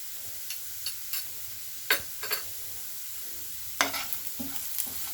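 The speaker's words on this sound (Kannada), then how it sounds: "ಇದನ್ನೇ ನಾವು ಮತ್ತೆ ಫ್ರೈ ಮಾಡ್ಕೊತಾ ಇದ್ದೀವಿ. ಒಂದು ಗೋಲ್ಡನ್ ಬ್ರೌನ್ ಬಂದಿರುವ ಆನಿಯನಲ್ಲಿ ಅದನ್ನು ಮಿಕ್ಸ್ ಮಾಡಿ ಫ್ರೈ ಮಾಡ್ತಾ ಇದ್ದೀವಿ." Spice powders of turmeric, chilli and garam masala frying with golden brown onions, a few scattered spatula scrapes and knocks over a soft continuous sizzle, close by with no talking.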